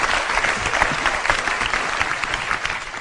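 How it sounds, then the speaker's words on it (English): An audience applauding at a live motivational talk: dense, steady clapping from many hands filling the room at full strength from start to finish. "Give a round of applause, guys."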